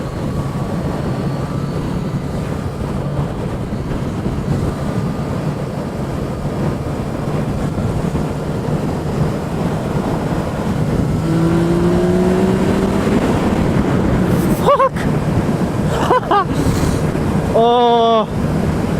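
A Yamaha MT-09 SP motorcycle accelerates hard while ridden, its engine drone rising steadily under heavy wind rush, with a few brief higher-pitched bursts near the end.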